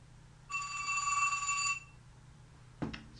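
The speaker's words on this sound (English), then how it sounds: "Excuse the phone." A phone rings indoors with one bright electronic ring burst lasting about a second, then a short clatter, heard faintly in a quiet room.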